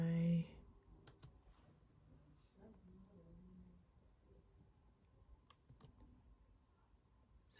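Typing on a computer keyboard while filling in a job application, soft scattered key clicks in a quiet room, with a few louder taps and a short sound at the start.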